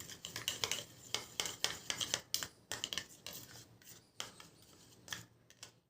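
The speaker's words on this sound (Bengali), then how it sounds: "এবার আমি এই কফি পাউডারটা ভালো করে এর সাথে মিশিয়ে নিচ্ছি।" A spoon mixes coffee powder into a face pack in a small bowl, giving faint, close scraping and rubbing strokes in an irregular rhythm with no talking.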